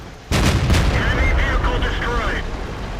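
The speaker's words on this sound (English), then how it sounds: "We fire faster than he does, and we got a beautiful shot at his lower glacis as he pokes over." Tank cannon shot in World of Tanks, aimed at an enemy's lower glacis: a loud, close blast at the start, then rumbling battle din with short bursts and a muffled voice underneath.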